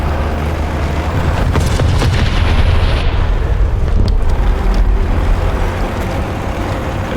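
Heavy tank cannon fire in War Thunder ground battles, a deep booming blast rolling over a constant loud engine rumble and battlefield noise, with no distinct separate shots standing out.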